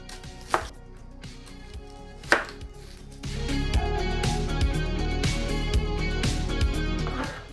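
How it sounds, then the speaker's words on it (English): Knife chopping a medium onion on a cutting board: two isolated chops, then a steady run of rapid rhythmic knocks up close. "So here's half an onion chopped up"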